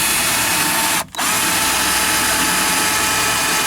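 A power drill whirs loudly and continuously while drilling out rivets on a car power window regulator, cutting out for a brief moment before spinning up again.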